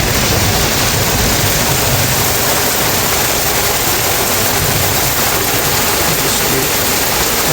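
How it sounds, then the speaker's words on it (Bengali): Heavy rain pours down steadily in a dense, loud hiss of broadband noise that stays constant throughout, with no voices. "ভালোই জোরে বৃষ্টি হচ্ছে।"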